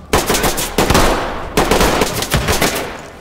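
Gunfire in the Ready Or Not tactical shooter with a hardcore military mod, three loud close bursts of rapid automatic shots, each with a sharp attack and ringing decay, no talking.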